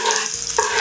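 Trout fillet frying skin-side down in a pan with thyme, a dense, bright sizzle that crackles steadily and close for under a second.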